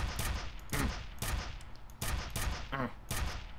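Gunfire in F.E.A.R. Extraction Point comes in sharp, loud shots spaced roughly half a second to a second apart, each ringing briefly, with a short vocal cry between shots.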